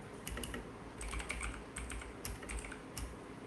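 Quiet, sparse keystrokes on a computer keyboard while editing in the vi text editor, with irregular taps and short pauses between bursts.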